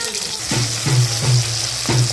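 Chopped tomato sizzles in a pan for an okra mustard curry, a close, steady fry broken by a few rhythmic low pulses as it is stirred.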